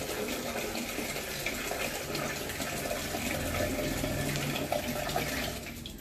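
Water gushes steadily from a tap into a sink as hands are washed, a dense continuous running-water roar close by for about twenty seconds, easing slightly at the end, with no talking.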